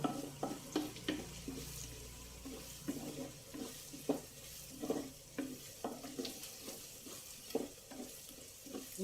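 Chopped onions frying in a pan for a bottle gourd and chana dal curry, a faint steady sizzle broken by repeated scraping stirs of a spatula, close and quiet with no talking.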